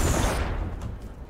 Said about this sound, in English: Oh, are you shooting cannons and stuff?